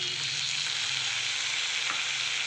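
Steamed dal is stirred into cooked cabbage in a hot pan for a spicy dal cabbage dish, producing a steady, loud frying sizzle with scraping stir strokes, close up and without speech.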